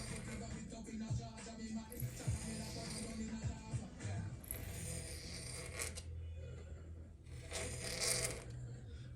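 A piston ring filer cutting the end gap of a piston ring for a boosted Scat Pack engine build, with close, uneven scraping and grinding strokes and small metallic clicks at fairly low level.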